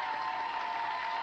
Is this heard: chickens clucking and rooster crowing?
no